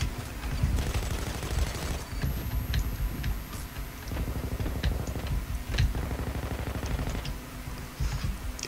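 Gunfire in the video game PayDay 2 comes as dense, steady bursts of shots aimed at snipers, with a continuous low rumble of game noise underneath.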